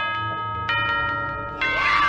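The 6 AM chime in the video game FNAF Help Wanted plays as a series of clear bell-like strikes, then breaks into a burst of noisy cheering at the end.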